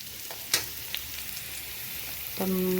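Curry leaves with sliced raw nendran banana peel and carrot sauté in a pan for upperi, giving a continuous soft sizzle with a couple of sharp stirring taps, close and fairly quiet.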